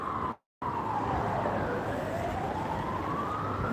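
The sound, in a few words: ambulance siren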